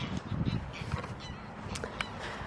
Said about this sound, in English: And look at how many ducks.